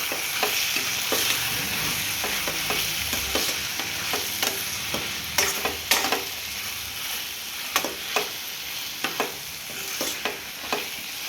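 Chili powder stirred into an eggplant and tomato curry in a pan, with a steady sizzle broken by repeated sharp scrapes and clacks of the spoon against the pan, close and alone.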